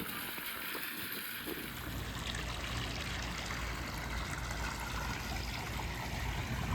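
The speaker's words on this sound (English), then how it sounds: "Well, the water's going in" Water streaming and trickling steadily into a Coleman Power Steel above-ground pool outdoors, a continuous close, even flow that holds for several seconds with no talking.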